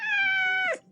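A cartoon cat in an animated show lets out one long, loud, drawn-out meow that bends downward at the end, heard alone and close.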